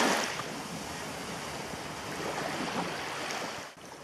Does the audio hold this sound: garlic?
no